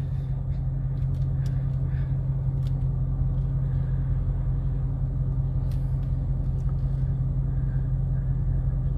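Heard from inside the car, a Dodge Charger RT Hemi makes a loud, continuous low engine roar while accelerating in a race, with steady rumble throughout and light scattered ticks on top.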